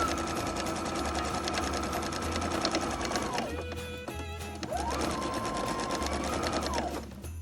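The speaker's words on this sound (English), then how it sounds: "We sew across this line one more time." A sewing machine stitches across a quilted Christmas stocking in two steady, rapid bursts separated by a brief pause, close and clear, with no talk over it.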